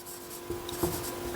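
Pen writing by hand on paper, a close, quiet scratching made of a few short strokes with brief pauses in between, heard alone with no voices.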